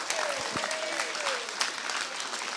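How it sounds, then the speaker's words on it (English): Audience applause at a middle school awards and eighth grade promotion ceremony, steady clapping filling a hall for about two and a half seconds with a faint tonal sweep passing through. "Join me one more time for an applause for these two guys."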